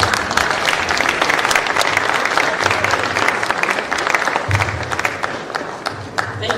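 Sustained applause from an audience at a Kenyan film awards ceremony, dense steady clapping filling the hall with a low murmur beneath, holding at an even level throughout.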